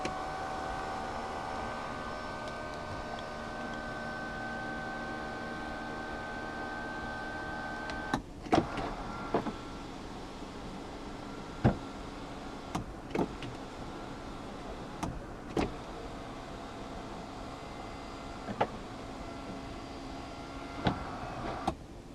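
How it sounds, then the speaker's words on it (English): Motor whir of the panoramic sunroof opening on a 2018 BMW 630i Gran Turismo M Sport, a steady mechanical hum for about eight seconds that stops, followed by scattered clicks and soft knocks inside the cabin. "the control for the panoramic sunroof is right here"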